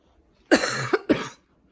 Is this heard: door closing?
no